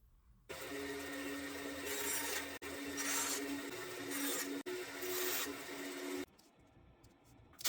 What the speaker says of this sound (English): Sanding is definitely more fun when the drill does all the work.